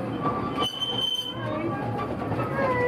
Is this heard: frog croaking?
no